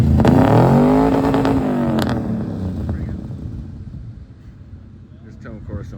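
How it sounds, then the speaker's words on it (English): A 1980 Ford LTD's engine revs loudly up close, its rising and falling pitch sweeping through a couple of pulls before settling back to a lower idle, with people talking over it. "This town car sounds good."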